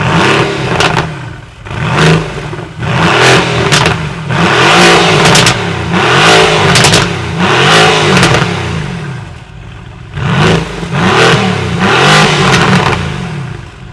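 Mercedes-AMG GT R engine revving hard outdoors, a series of sharp throttle blips that rise and fall repeatedly with loud, close exhaust bursts and no voices.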